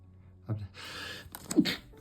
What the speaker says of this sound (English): I was about to say I'm going to sneeze and it came very quickly.